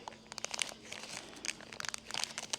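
Plastic mochi snack wrapper crinkled and torn open by hand, a close series of sharp irregular crackles and rustles.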